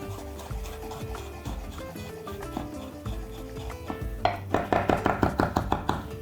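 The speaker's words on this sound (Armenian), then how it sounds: "Մանր կտրատում ենք" A knife finely chops fresh herbs on a board. Softer cutting comes first, then a quick run of rhythmic, fairly loud chops near the end, with music playing underneath.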